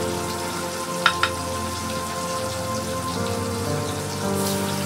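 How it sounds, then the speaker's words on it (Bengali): Hilsa fish, destined for a curry with potato and eggplant, is lightly half-fried in a pan. It gives a steady close sizzle throughout, with two sharp pops near the start and a slight rise in hiss toward the end. "তো আমি মচমচা করে ভাজবো না, একটু আধা ভাজা করে ভাজবো, ভেজে আমি মাছটা তুলে নিব।"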